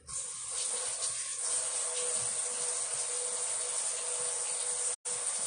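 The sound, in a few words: scrubbing apples with plant-based soap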